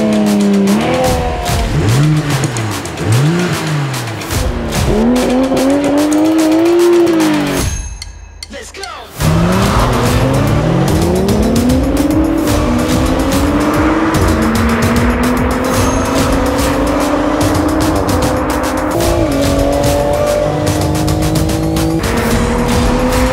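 A drag race pits a 1400-hp 2JZ-engined Toyota Supra against an S58-engined BMW M4: loud close engines rev and climb through rising gear-shift sweeps, cut out briefly, then roar on hard under full acceleration.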